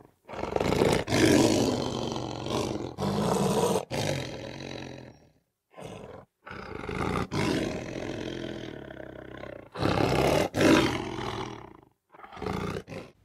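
A lion roars in a series of deep, rumbling bellows separated by short pauses, loud and close with no other sounds.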